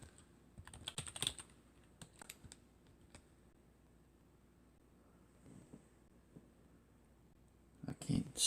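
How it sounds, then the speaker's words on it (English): Someone types on a computer keyboard in quick uneven bursts of clicks, close and fairly quiet, with pauses between runs of keystrokes and a louder cluster at the end. "I can't see what I'm typing."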